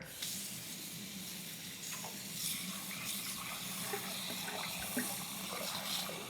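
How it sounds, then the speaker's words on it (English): Cold tap water runs into a cooking pot for stovetop chicken bone broth, a steady, moderately quiet rushing stream with small splashy bumps, unbroken by speech. "And we're just gonna fill it up with cold water."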